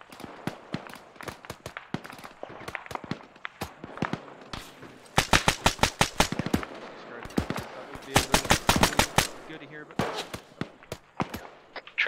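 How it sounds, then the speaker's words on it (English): An ARMA 3 firefight, with sharp rifle cracks and rapid automatic bursts trading back and forth, some shots close and loud, others thinner and more distant, in irregular clusters. "Trading fire with some guys to the east."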